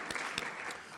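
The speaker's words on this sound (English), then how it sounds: "a round of applause to the panelists who really steered the discussion" An audience applauds the panelists at a conference session, brief dense clapping with a few sharper claps standing out, close and moderately loud.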